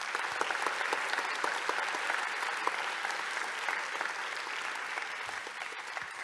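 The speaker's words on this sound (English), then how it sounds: "let's give them an applause for them" An audience at a conference closing session claps together in sustained, even applause, many hands blending into a dense patter at a moderate distance.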